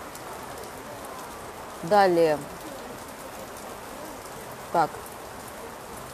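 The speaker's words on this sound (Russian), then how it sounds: "Какой же тут ливень начался. Просто жестокий." Heavy rain pours down in a fierce downpour, a soft continuous hiss throughout, while a person speaks briefly twice over it.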